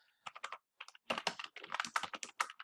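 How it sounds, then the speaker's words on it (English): Keys clatter on a computer keyboard in quick, uneven bursts with short pauses, close and fairly quiet. "I'd be typing something like"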